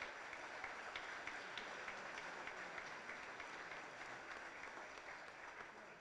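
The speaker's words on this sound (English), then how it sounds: "How about another round of applause for all of our state championship coaches." Faint, distant-sounding applause from the crowd at a 2024 Texas High School Football Hall of Fame induction, honoring state championship coaches, a soft continuous patter of many hands lasting about six seconds with no speech.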